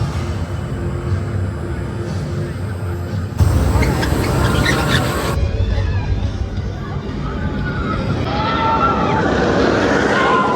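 Loud rushing roar of the Hyperia roller coaster at Thorpe Park, with wind buffeting and a crowd murmur, swelling abruptly partway through and staying dense and continuous to the end.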